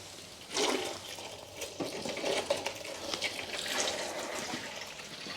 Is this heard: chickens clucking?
no